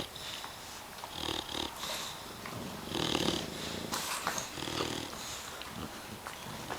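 A dog snores softly in a quiet room, a faint, rough, rhythmic breathing rattle repeating at a slow, steady pace, close by with no talk over it.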